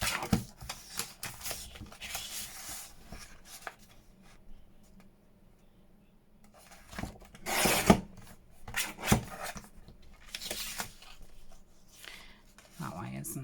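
Leftover paper from a Tim Holtz paper pad being trimmed down in short rasping bursts, with quiet pauses between cuts and a voice talking over parts of it.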